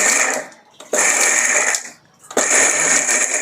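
A kitchen mixer grinder coarsely crushes grated coconut for jackfruit puzhukku, whirring loudly in three short bursts with brief pauses between them.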